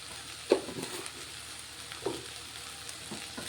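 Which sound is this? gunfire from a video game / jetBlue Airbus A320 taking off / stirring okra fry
stirring okra fry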